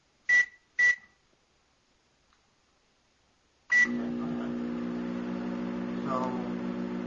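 Microwave oven beeping three times as it is set, then switching on and running with a steady, fairly loud hum while heating a cup of water.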